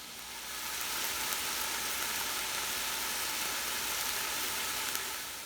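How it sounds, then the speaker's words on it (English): Carrots, celery and onion sizzle in a pan for a rustic Bolognese, a steady soft hiss of frying, fairly quiet and constant with no talk. "after about 7 minutes of sauteing your carrots, celery, and onion"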